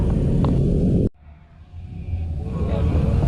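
An MPM bus with an SR2 HD Prime body passes on the road: a steady, loud engine rumble drops out briefly, then swells back as the heavy vehicle goes by close up.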